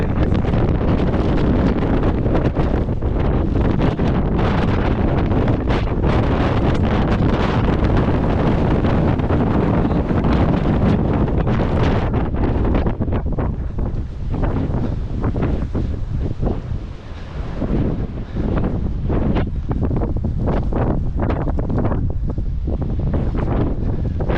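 Strong coastal wind batters the microphone during a long seaside run, a loud, constant roaring buffet that eases slightly midway before gusting back with sharp bursts.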